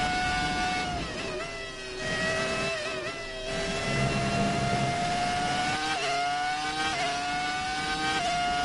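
An F1 race car engine in F1 2019 screams at high revs, its tone sliding and jumping through repeated gear changes over several seconds, loud and close with no talk.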